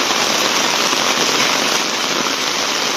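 Heavy rain pours steadily and loudly on a rainy day, a dense continuous hiss of drops striking surfaces close by, with no voices.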